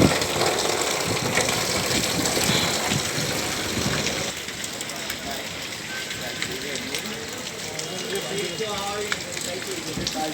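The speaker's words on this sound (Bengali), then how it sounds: "আনুমানিক সকাল 6:40-এর দিকে শুরু হয় আচমকায় বৃষ্টি।" Sudden heavy early-morning rain pours down on a flooded road, a dense, steady wash of water that dominates the first few seconds before voices start talking over the continuing downpour.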